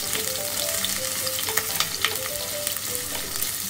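Onion and garlic sizzle steadily in a hot pan while being stirred, a close, continuous frying hiss with occasional scraping clicks and no talking.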